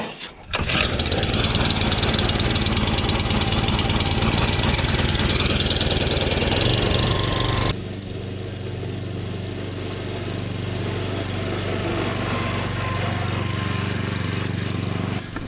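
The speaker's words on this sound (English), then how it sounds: "The engine is powering the roller at the back, and that's what makes it go forward." A cylinder mower's engine runs loud and close while it drives the rear roller without cutting grass, a steady rattling roar that drops abruptly to a lower, quieter idle-like hum about halfway through.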